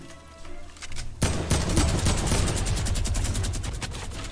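Rapid gunfire in an online shooter video game erupts after a quieter stretch, dense repeated shots forming a loud sustained burst that stays steady to the end.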